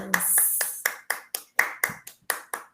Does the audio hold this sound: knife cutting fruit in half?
no